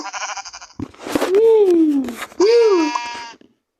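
Two drawn-out Minecraft sheep bleats, loud and close, with a short burst of other game noise before them; no talking.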